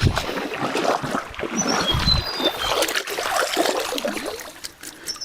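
Shallow forest stream water trickles and splashes steadily at close range while a freshly caught fish is cleaned by hand in it beside a riverside camp during heavy rain.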